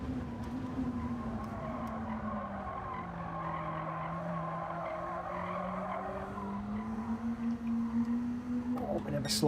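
Car tyres squeal through a slide in the Gran Turismo 7 racing game, a sustained wavering screech over steady engine drone that bends in pitch for several seconds, loud and continuous alongside the race car's roar.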